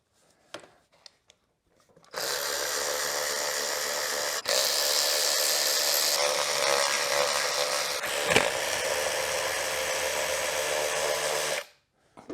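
A power tool whirs loudly and continuously for about nine seconds while loosening bolts from the foot pegs of a Kawasaki KLX110 dirt bike, its pitch shifting slightly as it works, with a sharp clack partway through.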